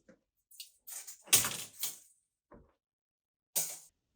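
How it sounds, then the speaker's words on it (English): Sliding glass doors on a two-door supermarket chest freezer island unit slide and knock shut in several short, close bursts, with quiet gaps between them and no talking. "this is two sliding glass door top units"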